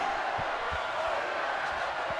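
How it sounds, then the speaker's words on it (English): Video game boxing arena crowd in Fight Night reacting as a haymaker lands to the body, a dense, steady roar of many voices with faint low thumps underneath, sustained throughout. "you can hear the crowd respond as a haymaker lands to the body"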